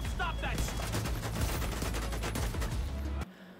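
Rapid automatic gunfire from The Division 2 video game rattles continuously and loudly for about three seconds, then cuts off abruptly.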